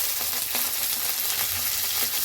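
Onion, curry leaves and green chili sautéing in a hot pan, a steady dense sizzle and crackle of frying throughout with no talk.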